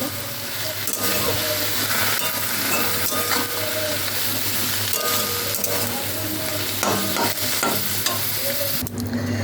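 Kharkol leaves with salt and turmeric frying in a pan, a continuous close sizzle with repeated scraping stirs of a spatula throughout.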